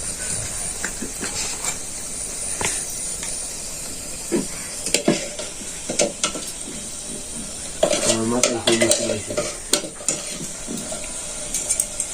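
Luchi frying in hot oil in a wok in a rural village kitchen, a continuous hissing sizzle broken by repeated clinks and scrapes of a utensil against the pan, close, without voices.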